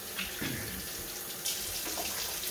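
Tap water running into a kitchen sink during hand washing while cooking crock pot pulled pork, a close, steady splashing flow with small bursts of spatter.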